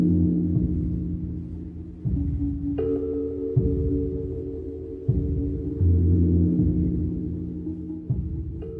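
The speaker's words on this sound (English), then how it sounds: "It's called Pulse Persephone from 1959," Pulse Persephone, Daphne Oram's 1959 tape-manipulated electronic piece: abrupt, blocky shifts between sustained buzzing tones and drones every second or two, with occasional higher pitched layers cutting in.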